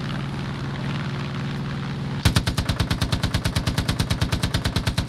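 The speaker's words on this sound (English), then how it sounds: "The machine gun go brrrr." Machine gun firing from an aircraft in the video game Far Cry 5: a steady engine drone gives way to a fast, even stream of loud shots that continues without pause.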